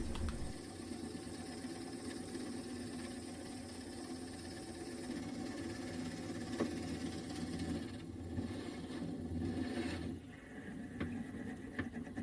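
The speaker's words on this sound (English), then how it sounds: "I'm drilling a hole with a 15mm Forstner bit in the tailstock" A 15mm Forstner bit held in a lathe tailstock bores into a wooden blank for a ring, giving a steady low mechanical hum and whir with faint scraping, continuous and moderately quiet throughout.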